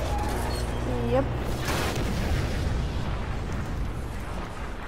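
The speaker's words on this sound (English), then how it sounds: "Big explosion." A big explosion in the Spider-Man PS4 video game comes as a sudden loud boom that rolls into a long rumbling, crackling roar. Game music tones sound at the start.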